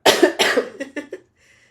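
A person coughs harshly up close, two heavy coughs followed by a quick run of smaller ones, then quiet.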